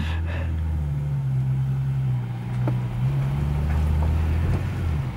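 An Aston Martin DB7 takes its first laps after renovation, its engine droning steadily at low, even revs as it cruises without hard acceleration.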